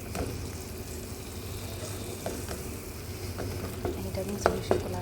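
Onions sizzle and fry steadily in a pan with white and red onion, a continuous bright crackle with scattered louder pops and stirring scrapes near the end, no one talking.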